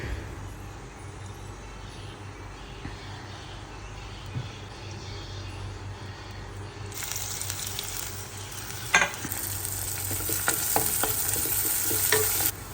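Spinach dropped into oil tempered with mustard seeds, cumin, green chilli, dried red chilli and curry leaves for cheera thoran; a quiet stir-fry swells into a loud, bright sizzle partway through, then continues with stirring scrapes.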